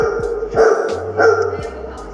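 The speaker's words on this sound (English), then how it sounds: "Just like the other dogs, he keeps on sniffing my tripod." A close dog gives a few short, sharp barks and yips over soft background shuffling.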